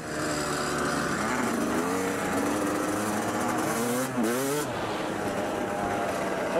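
A Yamaha YZ dirt bike revs hard nearby, its engine pitch rising and falling in quick sweeps as the rider works the throttle, loud and continuous throughout.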